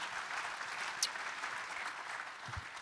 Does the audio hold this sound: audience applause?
yes